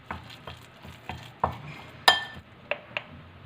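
A chicken biryani mixture for a Kerala dum biryani being stirred in a pan, with a steady series of soft scrapes and light spoon clinks against the metal, close up.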